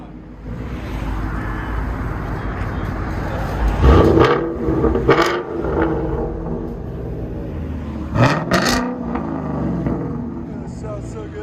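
A 2018 Ford Mustang GT 5.0L V8 with dual exhaust, X-pipe and Roush axle-back revs close by, with a steady idle rumble broken by several sharp throttle blips, a voice talking faintly underneath.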